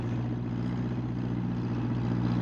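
A farm tractor engine runs steadily close by, a constant low rumbling drone with no break and no voices.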